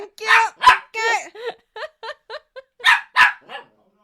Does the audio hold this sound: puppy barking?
yes